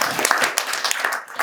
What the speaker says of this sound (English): Give a round of applause to the mayor.